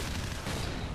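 A grenade exploding in Call of Duty 4: Modern Warfare during a Search and Destroy match, a brief dense rumbling blast that fills the short moment with heavy, noisy impact.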